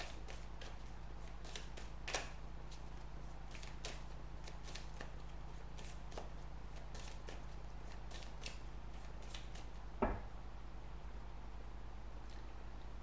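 Tarot cards shuffled by hand for a reading, a string of soft, quick riffling taps and flicks, close and quiet over a steady low hum, with a sharper snap near the end and no talk.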